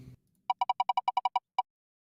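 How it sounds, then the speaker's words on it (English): Phone ringtone of rapid, evenly spaced electronic beeps, about ten quick tones followed by one more after a short gap, clear and close, with a brief voice at the very start. "Oh, that's my phone."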